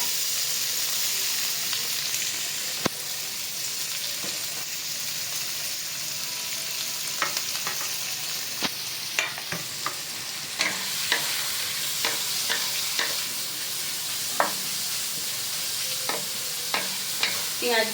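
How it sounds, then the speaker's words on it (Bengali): Onions frying in two to three spoons of hot oil in a pan give a steady, loud sizzle and hiss that runs throughout, broken by scattered sharp clinks of a utensil stirring against the pan. "দিয়ে এখানে আমি পেঁয়াজগুলো ভাজতে দেব"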